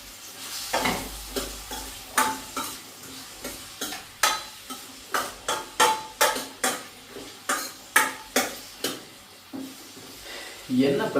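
Tomatoes with salt sizzling in a pan while being stirred, with a regular series of sharp scraping and clinking strokes of a utensil against the pan over a soft fry, fairly close.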